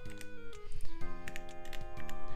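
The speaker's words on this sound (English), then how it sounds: "Smash the keys like that." Rapid clicky keystrokes on a 3D printed DZ60 RGB mechanical keyboard, a steady close flurry of typing over a quiet background tone, with no voices.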